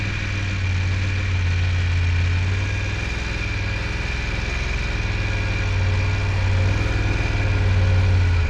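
Motorcycle engine turning over at a steady low idle-like rumble during a slow-speed U-turn practice exercise, close and continuous with no talking.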